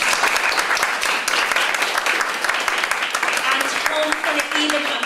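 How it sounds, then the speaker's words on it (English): Audience at a citizenship event giving a round of applause, a loud, sustained burst of dense clapping filling the room, with faint voices near the end. "I'm going to ask you to join me in giving them a round of applause"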